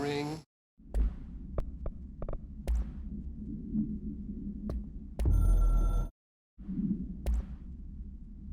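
The hotline telephone in the video game Control rings in two sharp, bright electronic bursts, one brief at the start and a longer one later, while a low voice talks steadily in between.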